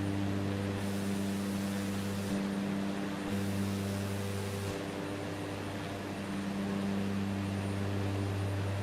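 Steady aircraft engine drone from outside the cockpit in Microsoft Flight Simulator 2024 over New Zealand scenery, a continuous loud hum with stable low tones that shift slightly in pitch partway through, with no talking.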